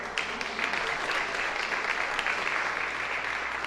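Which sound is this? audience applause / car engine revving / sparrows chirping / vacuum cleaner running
audience applause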